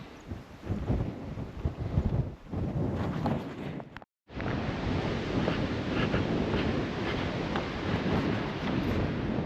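Blustery wind buffets a microphone outdoors on a walk around the former Thor missile sites at RAF North Luffenham, a loud continuous roar and rumble that drops out briefly before surging back steady.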